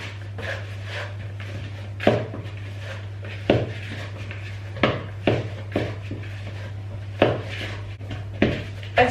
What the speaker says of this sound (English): what I'm going to do is just knead it in the bowl